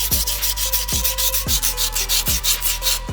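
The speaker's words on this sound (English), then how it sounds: "just file down the edges." Grip tape edges on a dirt bike frame being sanded, with rhythmic back-and-forth rasping strokes, about six loud, close passes in steady succession.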